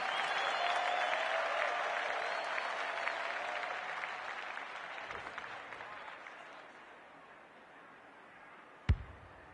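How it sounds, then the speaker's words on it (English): A large crowd at a women's Australian rules football match cheers and applauds in a sustained roar that slowly fades, ending with one sharp close knock. "The crowd noise tells you all you need to know."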